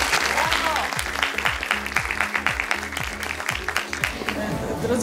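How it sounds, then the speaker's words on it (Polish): Cinema audience applauding a guest after a film screening, a short burst of steady clapping under a voice speaking over it, fairly close and sustained to the end. "Gorące brawa!"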